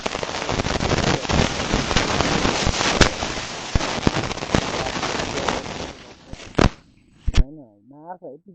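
A motorcycle fitted with an aftermarket exhaust pops and crackles in a loud, rapid string of sharp bangs. The bangs fade out, and a voice briefly follows near the end.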